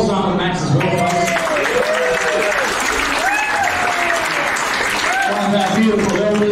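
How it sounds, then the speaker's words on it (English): A crowd claps steadily for an elder invited on stage at an Aboriginal cultural dance performance, with dense, continuous applause and voices talking over it throughout. "Round of applause to Uncle Matt as well,"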